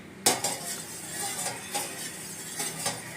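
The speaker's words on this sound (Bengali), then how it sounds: "দিয়ে টক দইটা একটু এর সাথে মিশিয়ে নেব" A spoon stirs two spoonfuls of sour curd into warm milk, giving soft repeated scrapes and light clinks against the container, fairly close and moderately quiet, with no talking.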